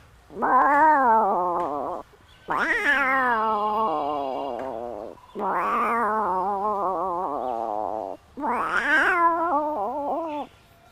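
A person's voice imitates the mewing of a large kitten in four long, drawn-out, wavering cries, loud and close, each lasting about two seconds and separated by short pauses.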